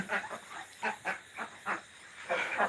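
Ducks quack in a series of short, faint calls spaced irregularly, with a few overlapping at the end.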